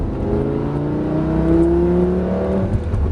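A Lamborghini Gallardo with a 520 hp engine accelerates on the Marcoussis track, its steady engine roar climbing smoothly in pitch, loud and close throughout without a break.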